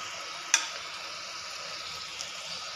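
Onion bhaji (crispy kanda bhaji) frying in oil over a medium flame, giving a steady, even sizzle with one brief sharper crackle near the start and no talking.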